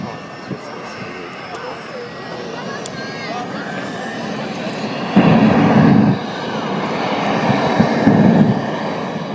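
A Ford Blitz truck fitted with a Rolls-Royce Viper 202 jet engine roars at an airshow, a steady distant jet whine that surges louder midway, with people talking over it.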